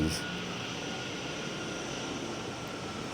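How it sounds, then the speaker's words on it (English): A plane from a nearby airport passes overhead, a loud, steady broadband jet roar filling the air without a break. "There's an airport 10 minutes that way, so these planes are loud as shit."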